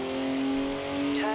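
Engine of a BMW car accelerating in the racing video game Forza Horizon 4, a steady rising engine tone with a voice speaking over it.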